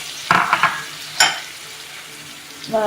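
Onions fry in a pan for maash daal, a close, loud sizzle broken by several sharp stirring scrapes and clinks of the utensil against the pan.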